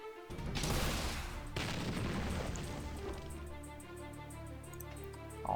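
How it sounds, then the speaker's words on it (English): An artillery barrage in the Battle Nations strategy game bursts in as a loud rumbling volley of booms and blasts, then fades into lingering game sound. "Barrage."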